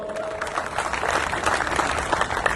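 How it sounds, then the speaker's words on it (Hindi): Audience applause at a religious gathering led by a swami, a moderate, fairly distant patter of many hands clapping steadily throughout, with no voices. "इसके लिए भी तालियां बजाओ"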